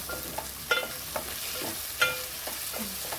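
Onions sauté with garam masala in a pan, a constant moderate sizzle punctuated by rhythmic scrapes and taps of a spatula stirring the mixture, no voices.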